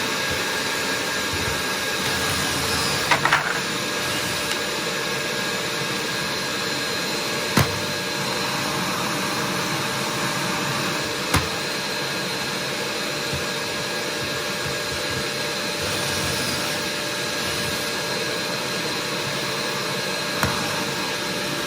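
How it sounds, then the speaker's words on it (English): A shop vacuum used for dust collection during pocket-hole drilling drones continuously at a steady pitch, with a few sharp clicks and taps breaking through now and then. "But first, remember, turn on the vacuum."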